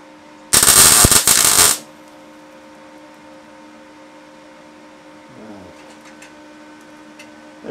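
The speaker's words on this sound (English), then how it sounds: "So that's literally just popped in two tiny little welds." A short, loud crackling burst of tack welding on a Porsche 928 where the paint has been cleared, followed by near silence with faint workshop noises.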